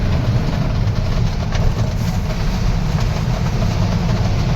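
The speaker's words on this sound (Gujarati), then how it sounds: "metro train" Steady low rumble of a metro train rolling past in Indore, with a continuous rail hum and faint clatter throughout, loud and close, no voices.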